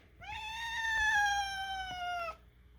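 A cat gives one drawn-out, low, moo-like meow lasting about two seconds, steady and fairly loud and close, then stops abruptly.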